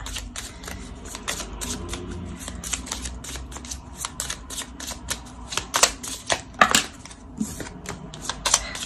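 Tarot cards being shuffled and drawn, a run of quick dry clicks and riffling snaps that come faster and louder toward the end, close up and without talk.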